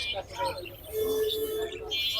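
Birds chirp and tweet in short bursts at Bottola bird market, Mirpur 13, amid a busy background of voices and general crowd noise, some calls ringing out clearly.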